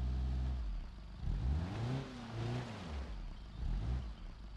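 A car engine in the BeamNG.Drive video game revs off-road, fairly quiet, surging up and down in several swells of rising and falling pitch with no talk over it.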